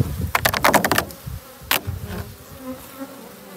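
Honey bees buzzing around a strong beehive in an apiary, a close, fluctuating hum with several sharp clattering bursts early on, then fading to a softer drone.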